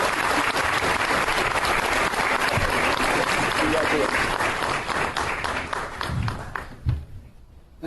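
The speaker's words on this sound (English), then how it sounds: "one more round of applause for our newest Hall of Famer, Katie McCall-Pinnell." Audience in a hall applauds a newly honored inductee at a sports hall of fame ceremony, dense sustained clapping filling the room before thinning out and fading near the end.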